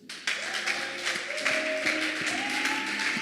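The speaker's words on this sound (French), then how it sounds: "On acclame le Seigneur." A church congregation claps and acclaims the Lord, with dense, steady applause and raised voices cheering over it, loud and close for about three seconds.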